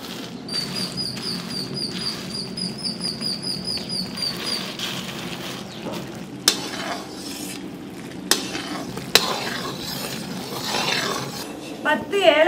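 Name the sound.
jaggery syrup being boiled and stirred for peanut chikki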